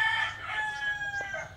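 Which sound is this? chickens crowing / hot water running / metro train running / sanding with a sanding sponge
chickens crowing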